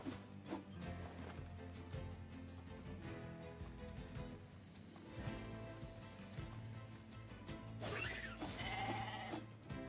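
Sheep bleat in the video game NieR Replicant, faint calls sitting within a busy mix of game music and ambient sound, with no speech over them.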